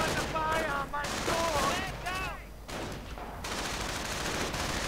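Rifle and sniper gunfire in a World War II Normandy battle video game crackles in dense overlapping bursts at mid distance, under chirping effects and a voice talking.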